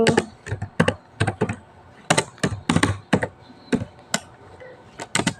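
Someone types router configuration commands on a computer keyboard in a network simulator, irregular close keystrokes in loose clusters with short gaps, steady and moderately loud, alone without speech.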